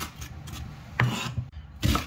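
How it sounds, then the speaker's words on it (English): A kitchen knife chops an onion on a cutting board, a few separate crisp knocks spaced unevenly, close by and with no talk. "Time to start chopping."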